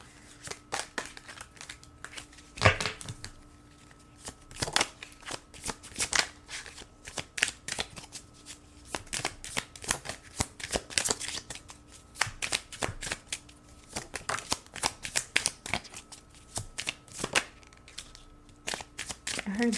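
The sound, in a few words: shuffling a deck of tarot cards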